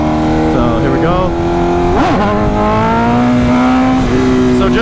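A 2025 BMW S1000RR sport bike lifts into a clutch up, its engine revving hard and sweeping up and down in pitch with a sharp burst near the middle, loud and close, with a rider's voice briefly audible.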